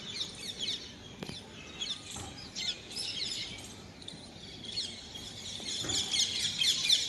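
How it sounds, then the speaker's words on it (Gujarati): Birds chirping and tweeting in the morning outdoors, a scatter of quick high calls from several birds at moderate distance, rising toward the end over a quiet background. "પક્ષીઓનો અવાજ તમે સાંભળી શકો?"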